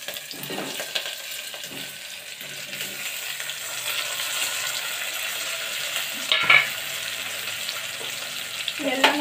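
Mustard seeds, cumin, garlic, curry leaves, onion, tomato and drumsticks sizzle and fry in hot oil for an Uttara Karnataka drumstick curry, a soft steady crackle with occasional clinks and stirring scrapes.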